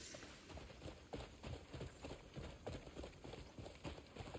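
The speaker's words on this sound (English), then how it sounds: "Ride a horse and follow her." Horse galloping in the video game Crimson Desert, heard as steady, rhythmic hoofbeats that run continuously at a moderate, even level throughout.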